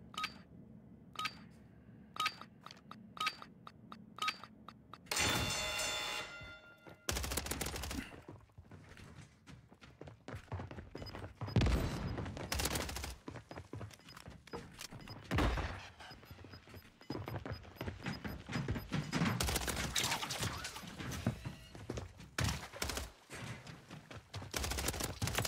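Gunfire in the shooter video game Warzone, rapid bursts of automatic fire and single sharp shots in uneven clusters, with dense sustained volleys toward the middle and end, loud and close.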